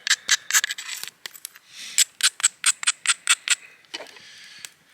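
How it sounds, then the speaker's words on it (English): A sharp stone tool edge rasps in repeated short strokes against a hide, stripping off membrane, a quick rhythmic series of close scraping bursts with brief pauses between. "That's going to be good for scraping."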